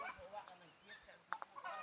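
Ducks and chickens in a rural northern Lao village let out faint, scattered honks and clucks, with a couple of sharper calls near the end, heard from a short distance outdoors.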